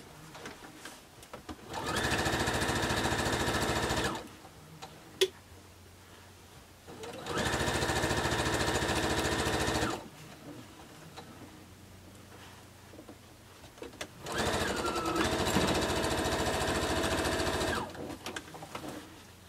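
A sewing machine runs three long bursts, each a few seconds long, with quiet pauses between them, while sewing the seams of a T-shirt quilt. The steady whirring hum sounds close and loud.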